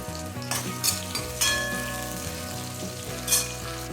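Sliced onions with torn dried red chillies and a few curry leaves fry in oil, a continuous close sizzle broken by several bright clinks and scrapes of a spoon stirring against the pan, with no talking.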